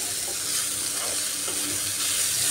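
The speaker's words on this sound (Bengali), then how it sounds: "এইভাবে পেঁয়াজটাকে আমি লাল করে ফ্রাই করে নিচ্ছি।" Onions fry in a pan with a steady, close sizzle, and no one talks over it.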